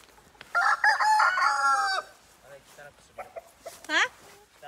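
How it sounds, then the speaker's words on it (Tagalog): A rooster crows loudly and close by, followed by scattered clucks and short calls from chickens, with some background voices. "Ito yung mga manok namin."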